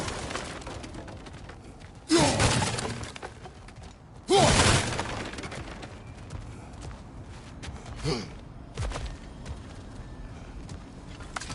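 Objects smash and shatter in a video game, with two loud bursts of breaking debris a couple of seconds apart followed by a few smaller crashes and soft footsteps.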